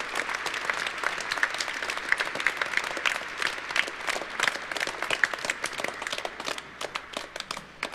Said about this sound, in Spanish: Recibimos al señor obispo con un caluroso aplauso.